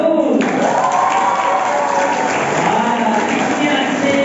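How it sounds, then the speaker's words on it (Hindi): A large group of school children claps together for several seconds, loud and dense, with a faint murmur of voices beneath. "अपने आप के लिए ताली बजाओ"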